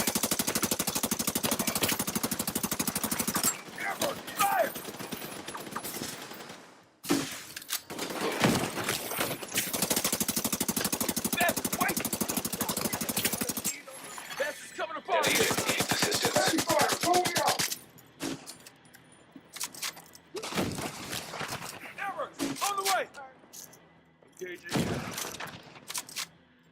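Sustained automatic gunfire in Tom Clancy's The Division 2, long loud bursts separated by brief pauses, with a voice talking over parts of the fighting.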